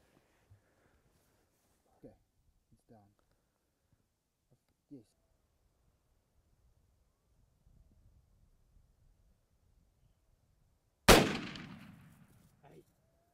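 A single loud Remington 700 VTR rifle shot fired at a blesbuck ram, a sharp crack with a decaying tail after near-silence broken only by faint scattered sounds.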